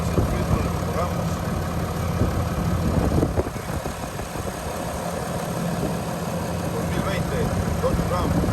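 A 2020 Dodge Ram 2500 Laramie with a 6.7L turbo diesel idles steadily after a fuel filter change, a constant close engine drone and vibration with faint talk underneath.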